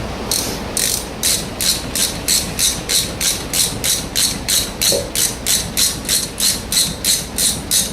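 A ratchet wrench winds a front brake caliper bolt back into a 2008 BMW E90 318i, producing close, loud bursts of sharp clicking in a steady back-and-forth rhythm, roughly three strokes per second, with no talking.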